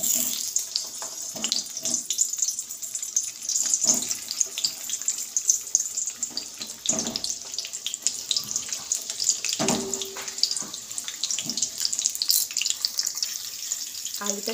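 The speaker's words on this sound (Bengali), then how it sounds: "এবার আলুগুলো এই তেলে দিয়ে দেব।" Potatoes dropped into hot oil for mutton biriyani give a steady, rushing sizzle with scattered pops and clinks, a continuous close hiss throughout.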